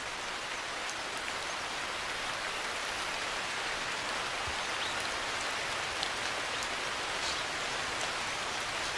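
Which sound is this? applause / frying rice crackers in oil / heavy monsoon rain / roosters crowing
heavy monsoon rain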